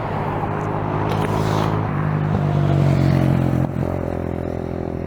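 Road traffic beside a walker: cars passing close by with engine rumble and tyre noise that swells and fades, one vehicle louder near the middle, steady and continuous with no talking.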